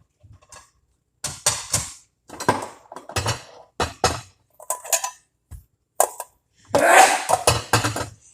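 Ceramic bowls and dishes clink and knock together in a home kitchen while making feta pasta, a string of sharp, close rattles and clatters with short pauses between them.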